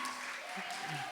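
Audience applause from a lecture hall crowd at a university talk, steady clapping filling the short moment at moderate volume, with a faint voice underneath.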